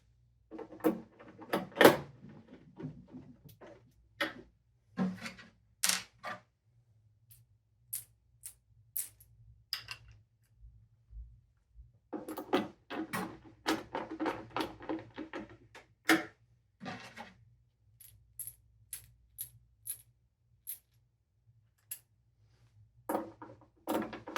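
Screws being driven into the legs of a Nakamichi MR-1 cassette deck: scattered small metallic clicks and rattles in irregular bursts with pauses, close and fairly quiet over a low steady hum.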